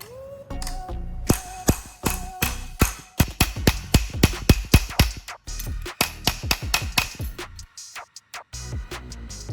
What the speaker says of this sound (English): I will hammer the spanner flat.